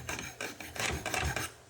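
Rasping strokes of a file shaping and rounding the end of a metal eye bolt while rigging a boat, a quick series of close, rhythmic scrapes.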